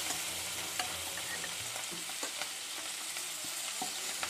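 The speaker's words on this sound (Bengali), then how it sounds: "এই যে মাছ ভুনার জন্য মাছটা সুন্দর করে ভেজে নিচ্ছি, আর পেঁয়াজ ভেজে নেওয়া হচ্ছে এখানে।" Hilsa fish pieces and onions frying in hot oil, a continuous dense sizzle with light scraping stirs and small pops, close by and without speech.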